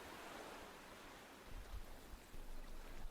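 Steady ambient running water played as background during a tabletop role-playing session, a soft continuous rushing wash with low rumbling swells, moderately loud and unbroken, without talk.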